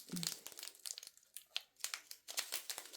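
Tape is pulled and wrapped around a small container of fairy dust, making close, faint crinkling and ripping bursts in short irregular spurts.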